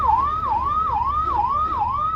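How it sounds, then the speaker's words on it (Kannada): An ambulance siren wails near a roadside accident scene, a loud, steady rising-and-falling tone repeating about every half second with road noise underneath. "ಇವರು ಇಲ್ಲಿಗೆ ಬಂದಿರೋದು ಆಂಬುಲೆನ್ಸ್ ಅನ್ಸುತ್ತೆ"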